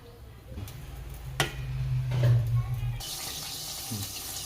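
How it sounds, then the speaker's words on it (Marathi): Oil is poured into a kadhai for a spring onion stir-fry, making a short, soft liquid pour that swells and then fades against a low kitchen hum. "कढईमध्ये तेल टाकायचं"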